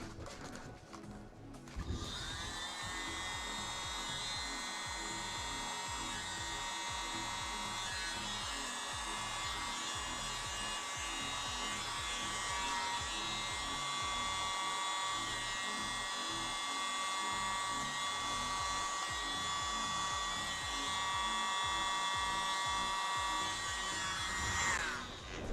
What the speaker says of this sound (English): Now I'm going to go in with my mini blower and just blow out any areas that may need it.